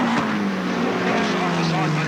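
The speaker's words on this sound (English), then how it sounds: "Cars coming past our thing." Race cars roaring past at Alwalton Raceway, a loud sustained engine drone with a falling pitch as they go by, a commentator talking over it.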